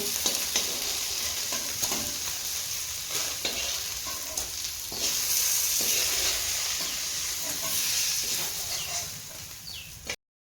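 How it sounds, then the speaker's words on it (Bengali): Food fries lightly in a pan, giving a continuous close sizzle and hiss with occasional stirring scrapes. It runs steadily for about ten seconds before cutting out abruptly, with no talking. "হালকা ভেজে তুলে নেবো"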